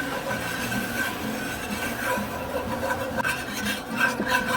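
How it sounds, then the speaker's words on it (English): Flour is whisked into melted butter in a pan for red chile mac and cheese, giving soft, continuous scraping and light metallic tapping at close range, quiet and steady with no talk. "Just whisk it up."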